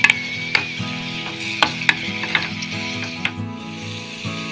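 Laddu batter frying in oil over a low flame, a steady soft sizzle with occasional sharp clicks and scrapes of a utensil against the pan.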